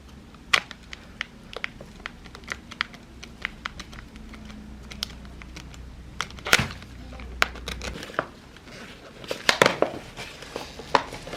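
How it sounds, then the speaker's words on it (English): Someone cuts a plant pot to free a root-bound yucca: scattered sharp snips and crackling plastic clicks, irregular and close, with a low hum fading out partway. "I'm actually going to cut this pot because it is well rooted into it."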